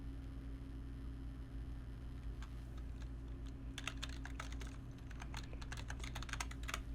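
Typing on a computer keyboard during a streamed mock job interview: irregular, fairly close key clicks start sparse, then quicken into denser bursts over a steady low hum, with no talking.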